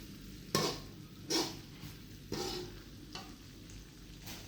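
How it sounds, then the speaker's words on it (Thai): Curry paste stir-fries in coconut milk for a mackerel curry, with a soft background sizzle broken by four or five quiet scraping strokes of a utensil against the pan. "จะผัดกับกะทิให้หอมก่อนนะคะ"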